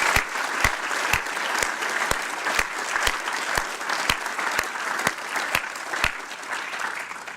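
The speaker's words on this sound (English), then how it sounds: "Please join me in a round of applause to congratulate and welcome them." A crowd gives sustained, even applause at an award presentation during the Yale Innovation Summit, with sharp, regularly spaced clicks cutting through the clapping roughly every half second.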